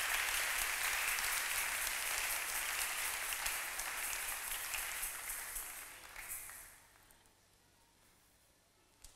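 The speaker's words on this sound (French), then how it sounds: "Acclamons pour la gloire de Dieu." A church congregation claps together at a French-language service, a dense, steady wash of applause that carries for several seconds, then tapers off and fades to near quiet.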